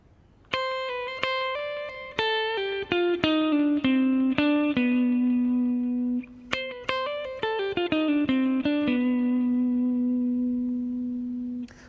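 A clean electric guitar plays a quick melodic lick of plucked and slid notes drawn from the B altered scale, the same notes as C melodic minor, ending on held tones, with no voices.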